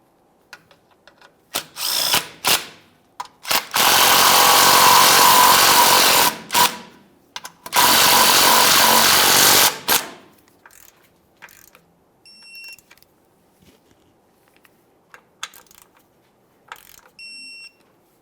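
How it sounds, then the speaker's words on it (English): Power tool driving and snugging 13mm mounting bolts on a 1999-2006 Chevrolet Silverado 1500 front suspension, with two long loud whirring runs and several short bursts, then quiet clicks and faint ratcheting. "Start in each one of your 13mm mounting bolts, snug them up, and then torque those to 19 foot-pounds."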